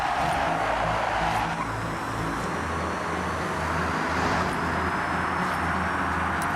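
A car in the video game Forza Horizon drives hard with a loud, continuous engine drone, a gear change early on and tire skid noise layered over steady road rumble.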